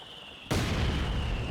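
An artillery shell bursts in a Company of Heroes 2 city battle, a sudden loud booming blast that holds a dense roar for about a second before cutting off.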